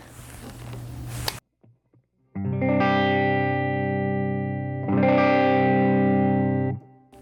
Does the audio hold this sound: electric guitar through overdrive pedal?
yes